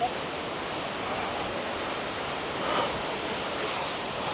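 A mountain stream flows near Bukal Falls in Majayjay, Laguna, giving a continuous, even rushing of water with no voices.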